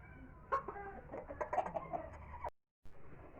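Rhode Island Red hens cluck softly in a coop, a run of short throaty calls and murmurs at close range, then a brief dropout before faint background resumes.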